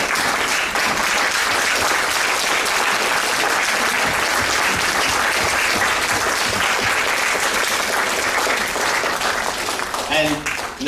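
An audience at a public forum stands and claps for volunteers, a dense, loud, continuous wave of applause filling the room, tapering slightly near the end as a voice begins.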